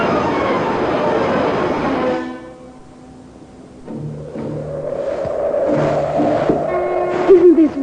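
Radio-drama train journey to the beaches at Pevensey: a steady rumbling carriage roll with rhythmic clatter, fading briefly before swelling again with clanks and a high whistle-like squeal near the end, no voices.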